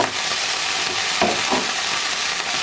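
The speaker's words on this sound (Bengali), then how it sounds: "ভাজার জন্য সমস্ত মশলা তেলে ফ্রাই করা হয়ে গেছে এবার দিয়ে দেব শাক" Leafy greens for shaak bhaja fry in spiced oil, a loud, dense, steady sizzle with a couple of brief stirring bursts and no talking.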